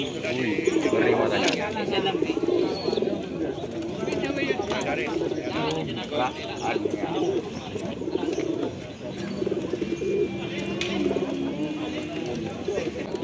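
Crested pigeons coo softly in the background at a market while someone talks over them almost continuously.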